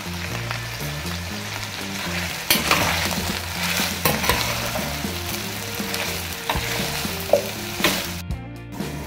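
Meat and mushrooms sizzle loudly in a stew pot, a steady crackling fry broken by repeated scraping stirs, with no voices.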